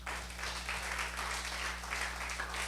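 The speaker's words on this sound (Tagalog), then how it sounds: "Bigyan nga po natin si Lord ng malakas na palakpak." A church congregation applauds in a sustained, dense wash of clapping, fairly faint and over a low steady hum.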